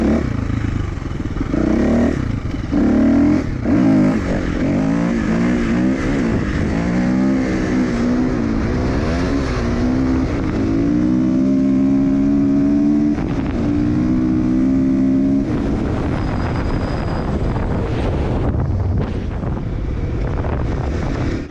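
A motorcycle engine revving and climbing through gears while the rider holds a wheelie, loud and continuous with pitch rising and dropping at each shift, buffeted by heavy wind noise.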